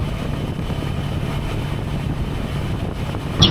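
A 2023 Kawasaki Versys 650 LT motorcycle cruising in sixth gear around 58 mph, a steady low engine drone mixed with rushing wind noise throughout, with a brief click at the end.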